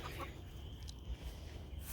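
Chickens cluck softly and steadily nearby, a low, continuous murmur with no talking.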